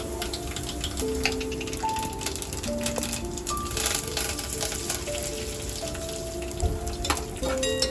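Mustard seeds and curry leaves crackle in hot oil for a Malvani mango raita, giving a steady dense patter of tiny pops over about eight seconds. Faint sustained tones sit in the background, and no one talks.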